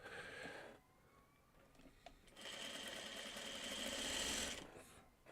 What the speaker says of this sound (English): I better pay attention to what I'm sewing